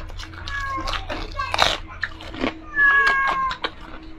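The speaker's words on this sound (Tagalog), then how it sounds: "Ang pusa. Naamoy na kumakain ko na." A house cat meows repeatedly at close range, several drawn-out, wavering cries in quick succession, while a person talks nearby.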